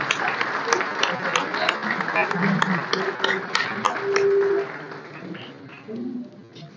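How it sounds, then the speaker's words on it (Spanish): Audience applause for David Galeano at a cultural delegation event in Palacio Barolo, Buenos Aires, a steady, dense patter of clapping from a crowd, moderately loud, running under background voices and fading toward the end. "Fuerte ese aplauso por David Galeano."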